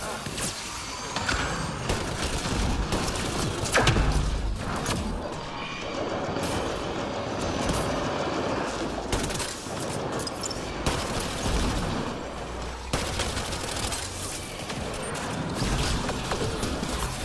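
Incoming gunfire in the sci-fi shooter Mass Effect Andromeda multiplayer, a dense, continuous barrage of weapon fire and mechanical bursts filling the whole stretch, loud and close, with game voices calling out over it.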